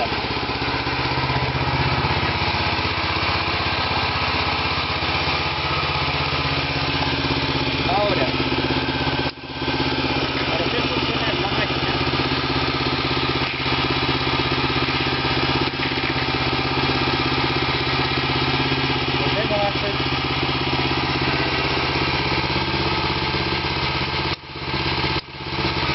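A BCS 738 8HP walk-behind tractor with a sickle bar mower attachment idles nearby in a constant, steady drone with brief dips, while someone talks over it.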